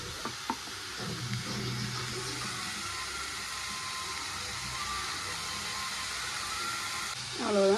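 Goat blood fry (raththa poriyal) simmers and bubbles in a pan with a soft, steady sizzling hiss, faint and continuous, with a few light clinks near the start.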